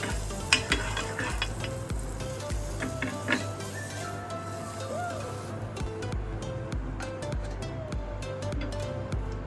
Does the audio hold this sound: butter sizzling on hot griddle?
yes